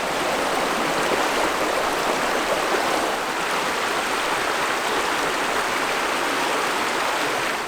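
Small river stream flowing, a loud continuous rush and babble of water close by, steady throughout with no voices.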